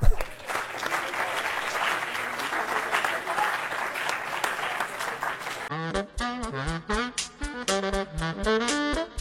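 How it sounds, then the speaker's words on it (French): Audience at a business conference-debate applauds the three speakers, a steady crowd of clapping for about six seconds that then gives way to music. "Vous pouvez les applaudir encore une fois."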